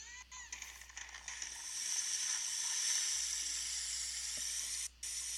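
Soft, steady hiss of simulated flowing water in a student's computer animation, a faint continuous wash that swells slightly midway, with a low hum underneath.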